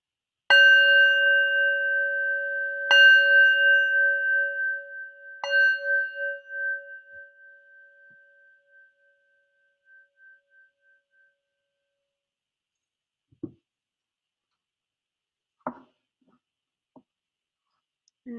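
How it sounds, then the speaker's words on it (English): A meditation bell is struck three times in slow succession, each clear ringing tone decaying into a long sustained hum in a quiet room, followed by a few faint small knocks. "And I'll start by ringing the bell."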